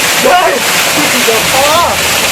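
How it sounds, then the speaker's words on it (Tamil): Water pours from a height at Ramiyanahalli Falls, a constant loud rushing roar, with a voice speaking over it. "இன்னும் உயரத்துலேருந்து தண்ணி ஊற்றப்பட்டுள்ளது நல்லா பாருங்கள் தான் நீர்வீழ்ச்சியோட முன் பகுதி"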